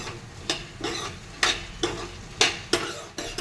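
Ingredients for an exotica sweet are dry-roasted in a pan, stirred in a steady rhythm of about one sweeping scrape every half second, close and clear over a light sizzle, with no voices.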